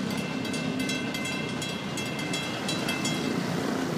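A long 8,200-foot Florida East Coast freight train rumbles steadily past up close, with continuous wheel and car noise, rattling and a faint high squeal throughout.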